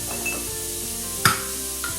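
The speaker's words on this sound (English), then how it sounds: "You just want to lightly fry that off." Onions frying lightly in a pan for a spiced sweet potato, squash and coconut soup give a steady close sizzle, with a sharp clink of utensil on pan and a softer stir-like knock.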